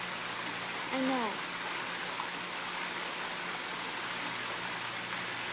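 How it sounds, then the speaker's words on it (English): Steady broadband rush of a waterfall fills the whole stretch, even and moderately loud, with a brief voice rising over it near the start. "What, the waterfall?"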